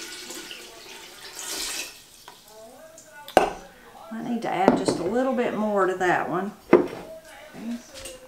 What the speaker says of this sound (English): I'm going to just kind of stir it around a little bit to help that salt.